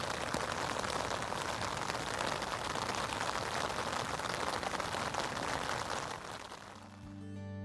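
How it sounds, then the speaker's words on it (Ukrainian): Dense, steady autumn rain patters loudly across a river, a constant hiss of countless drops that eases briefly near the end as a low tone enters. "Ви тільки прислухайтесь до цих чарівних звуків дощу на річці."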